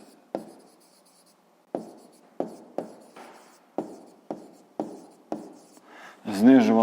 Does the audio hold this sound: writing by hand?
yes